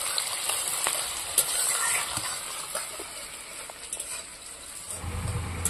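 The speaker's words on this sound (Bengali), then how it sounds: "পেঁয়াজটা লাল লাল করে ভেজে নেব।" Chopped onions frying in hot oil until browned, a continuous close sizzle with occasional stirring scrapes throughout, no voices.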